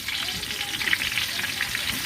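Chopped onions sizzle and fry in oil in a pot for a beef curry, a steady, close crackling hiss with occasional louder pops, no voices.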